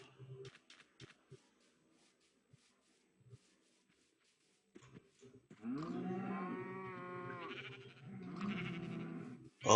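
Cows in the video game Minecraft give a few soft clicks and knocks, then one long, loud, wavering moo, and after a short pause a second moo cuts in near the end.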